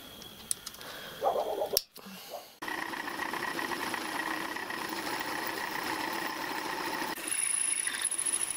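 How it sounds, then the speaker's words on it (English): A small watchmaker's lathe built from a vintage casting drills a part, giving a steady motor hum with a bright whine that runs for several seconds after a few brief handling knocks and a short pause. "I'll get this drilled and then we'll reconvene."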